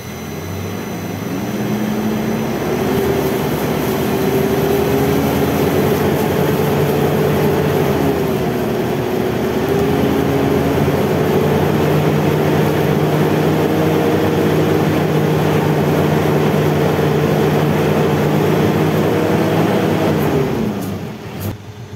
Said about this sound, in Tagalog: Tatanggalin ko na ulit itong hose niya mga boss para start ko ulit itong makina.